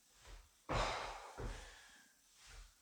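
Heavy breathing during a tiring workout: a sharp, forceful exhale, another shorter breath, then a softer one, close to the microphone, with no talking.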